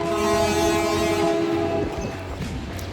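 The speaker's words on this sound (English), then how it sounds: "Oh, here's the train." A train passing near a barbecue restaurant in Texas, a loud steady rumble with a sustained horn tone that fades after about two seconds, heard alone.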